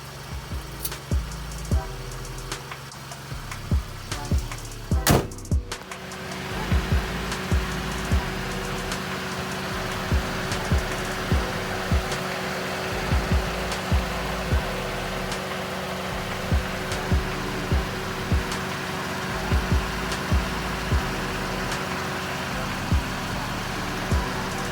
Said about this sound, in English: take it on a road test